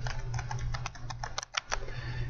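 Quick bursts of keystrokes on a computer keyboard as a host name is typed, close and crisp, with a short pause partway through and no talking.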